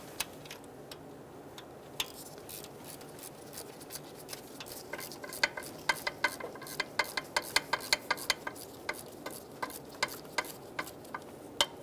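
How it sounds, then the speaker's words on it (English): Small, sharp metallic ticks and clicks repeat irregularly as a T25 Torx bit works out the two throttle position sensor screws on a 1988-1999 GMC K1500 5.7L V8, close and quiet with no talk. "Using a T25 bit, remove the two screws for the throttle position sensor."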